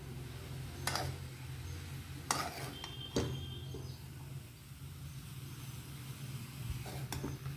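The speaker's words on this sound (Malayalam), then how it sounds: "അതുപോലെ തന്നെ കറിവേപ്പില അതുകൂടെ ഒന്ന് ചേർത്തിട്ട് നല്ലതുപോലെ വീണ്ടും ഒന്ന് മിക്സ് ചെയ്ത് കൊടുക്കാം" Papaya thoran with salt and curry leaves is stirred in a pan: a soft continuous scraping with a few faint spoon taps against the metal, low and close.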